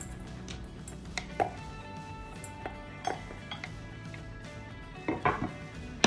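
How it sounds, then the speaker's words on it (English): Diced peppers for a corn salsa are tipped into a bowl, producing scattered close clinks and taps of a utensil against the dish, several sharp knocks spread across a quiet background. "So we are going to add into a bowl the peppers,"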